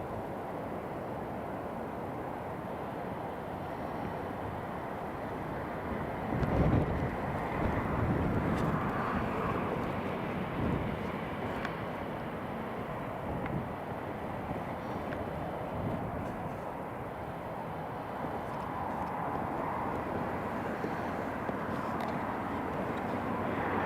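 A German Airways airliner from Amsterdam lands at Newcastle International Airport, giving a sustained, moderately distant engine roar that swells briefly with a gusty rumble, then settles into a steady drone, with wind buffeting and no speech.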